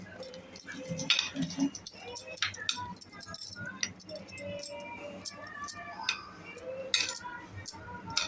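A spoon mixes fresh grated coconut and coriander into a cauliflower, pea and potato curry in a pan, with close, irregular metallic clinks and scrapes against the pan and faint background noise.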